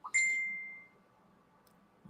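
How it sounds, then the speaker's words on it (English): A single bright phone notification ding rings out clearly, its tone fading over about a second in an otherwise quiet room. "Somebody's phone's blowing up."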